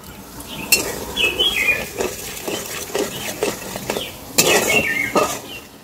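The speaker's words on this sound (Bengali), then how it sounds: "কড়াইতে এই আমের পাল্পটা দিয়ে ঘন করে নেব।" A utensil scrapes and stirs mango pulp in a wok as it thickens, producing irregular clinks and scrapes against the metal, some sharp, over a faint bubbling background.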